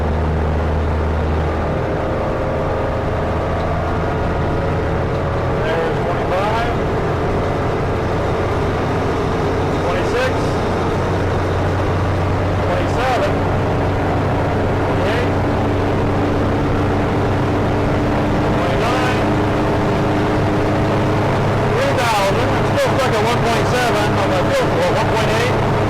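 An aircraft propeller engine is run up toward 3,000 RPM, a loud continuous roar that holds steady while a voice talks over it throughout.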